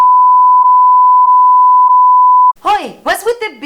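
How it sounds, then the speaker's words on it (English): A censor bleep: a loud, steady, high electronic tone held for about two and a half seconds with faint flickers, cut off abruptly as a voice starts talking. "Oi, what's with the beep? Why did you beep me?"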